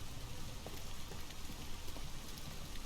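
Heavy rain pours steadily in Detroit: Become Human, a dense, even hiss of drops on surfaces, faint and continuous with no voices.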